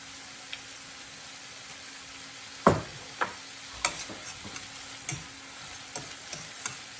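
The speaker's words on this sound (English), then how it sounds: "And we are sauteing this beef and shrimp and butter." Beef and shrimp sautéing in butter in a pan for egg foo young, a quiet steady sizzle broken by a series of sharp utensil taps and scrapes that recur about once a second after a louder clatter.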